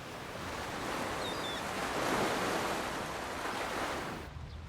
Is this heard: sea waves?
yes